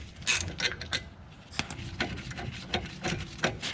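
Bolts being removed from a brake caliper on a Toyota SW20 MR2 with a big brake kit, heard as close ratcheting clicks and metallic mechanical clatter in irregular bursts.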